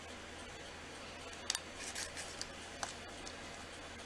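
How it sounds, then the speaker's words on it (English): A blade cuts through stacked polymer clay layers, giving a few soft, brief slicing and tapping sounds at close range over a quiet background. "And cut it in half again."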